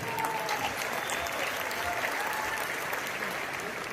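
A crowd at a stage talk in Noida gives steady, continuous applause, a dense, evenly loud clapping that fills the whole stretch.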